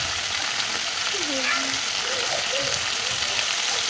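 Spices and turmeric fry and are stirred in a pan, making a continuous close sizzle, with a faint voice briefly in the background.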